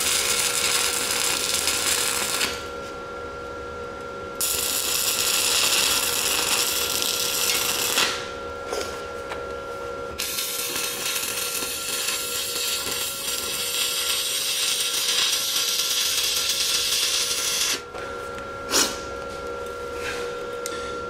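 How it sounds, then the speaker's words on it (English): Stick welding with a 1.6 mm rod on very thin metal, using a Synergic Autoplus 130 dual process welder: a steady, loud crackling hiss that runs in bursts of several seconds, broken by short pauses between passes. "that's the thinnest material I've ever had to stick weld in my life"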